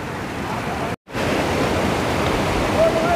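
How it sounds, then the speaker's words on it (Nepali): Muddy floodwater from the swollen Nisane stream source rushes loudly and continuously, a steady broadband roar close to the listener, broken by one brief dropout. "मुहान सबै बगाएपछि अहिले यहाँनिर चाहिँ पानी यसरी फर्काइँदैछ।"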